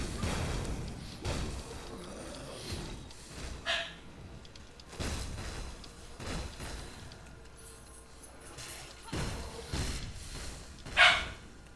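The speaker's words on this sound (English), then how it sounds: "My dog, I think he hallucinates stuff to bark at." A dog barks repeatedly in a room, several muffled woofs spaced a second or two apart, moderately close, over faint background game sound.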